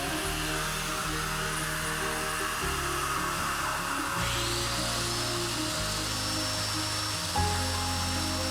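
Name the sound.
power tool cutting mortises in wooden stool legs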